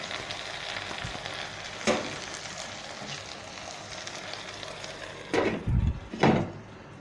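Masala bhindi (spiced okra) sizzles in a pan over a slow flame with a steady, soft frying hiss throughout, broken by a few brief knocks and clatters near the end.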